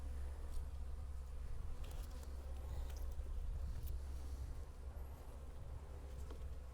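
Honeybees buzz around an open hive in a bee yard during robbing season, forming a faint, continuous droning hum with light outdoor noise and no talking.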